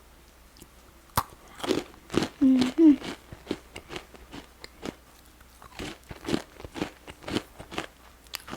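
Crispy whole wheat bread balls are bitten and chewed close to the mic, giving a run of loud, dry crunches with a few low murmured hums in between.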